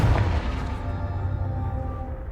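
A Confringo blasting spell detonates in Hogwarts Legacy, a loud close boom with a heavy low rumble at the start that decays into a lingering, ringing tail over about two seconds, with no talk.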